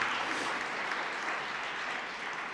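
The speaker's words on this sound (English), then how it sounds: "let's give John a hand of applause" An audience at a reconciliation forum applauds, sustained dense clapping at an even level from start to finish, with no speech over it.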